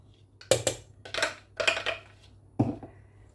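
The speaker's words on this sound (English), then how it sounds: "And then I'm just going to mix that together." A spoon or utensil scrapes and knocks against a bowl in a few separate clattering strokes while a raw vegan coconut vegetable fritter mixture is stirred, close and fairly quiet.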